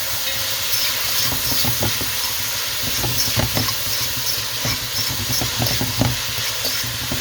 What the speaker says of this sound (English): I will do this stir up for a minute or so